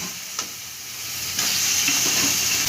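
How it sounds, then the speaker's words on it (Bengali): Chicken pieces going into spice masala in a pan, a soft sizzling hiss with a brief stir clatter, growing slightly louder as the chicken hits the hot masala. "এইবার সব চিকেনগুলো এবার মশলার মধ্যে দিয়ে দেবো।"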